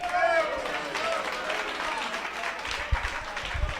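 A church congregation at an Apostolic service, carried on a radio broadcast, gives a steady round of applause with voices and crowd noise mixed in, moderately loud throughout.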